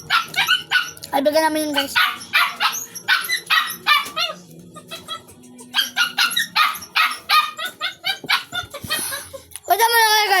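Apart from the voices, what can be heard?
dog barking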